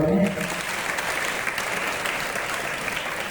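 An audience at a Shivaji Jayanti celebration claps for a young girl in sustained, dense applause that stays loud and even throughout.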